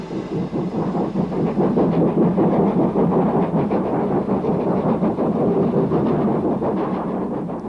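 An LMS Class 2P 4-4-0 steam locomotive hauls a local passenger train past two other engines near Bromsgrove, a loud, sustained rumble and rolling clatter close by with no talk.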